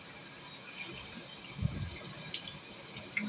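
Water from a bathroom tap running into drinking water bottles, a steady close hiss with a few faint knocks and clinks.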